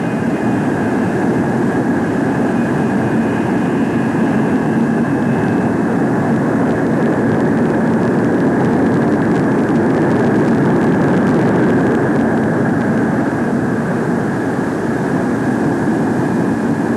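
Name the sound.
USAF F-102 jet aircraft on approach and landing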